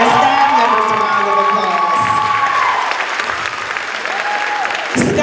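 Loud applause and cheering from an audience at a fifth-grade moving-on ceremony, with whoops and children's shouts rising over sustained clapping that holds strong throughout.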